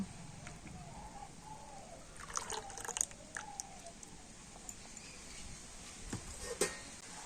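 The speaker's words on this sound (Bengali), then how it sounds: "মিক্সি আরটা ধুয়ে জলটা আমি এই পেস্টের মধ্যে দিয়ে দেব" Rinse water from a mixer jar is poured into a batter paste for paper pitha, a few soft, faint splashes and trickles around the middle of a quiet stretch.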